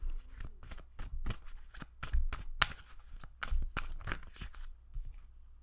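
Tarot cards are shuffled up close in a rapid series of crisp riffles and flicks, with uneven rhythm and short pauses, heard alone without talk.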